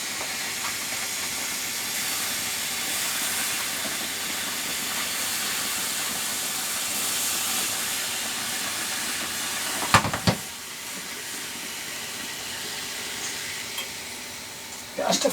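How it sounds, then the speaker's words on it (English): Water sizzles and hisses steadily on a heating dumpster-salvaged barricade road lamp, a loud continuous hiss with a brief clatter partway through. "It's getting hot because I can hear it sizzling with water that was on it."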